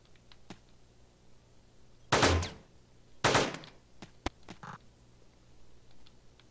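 Gunfire in the video game Teleglitch: Die More Edition, two loud sharp blasts about a second apart, followed by a few faint clicks and small pops against a quiet background.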